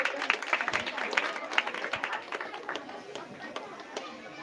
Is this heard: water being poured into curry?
no